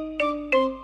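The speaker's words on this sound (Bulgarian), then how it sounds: "Телефон" A telephone rings in two short electronic bursts, clear and close, each trailing off briefly, with no talk around it.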